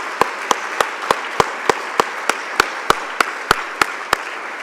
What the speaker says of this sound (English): I think that's worth applause right there.